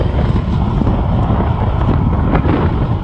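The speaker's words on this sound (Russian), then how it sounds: "О, ветер сильный." Strong wind buffeting the microphone while riding a Skyboard Far East Sport 5000W electric scooter at speed, a loud, steady roar with low rumble throughout and no talking.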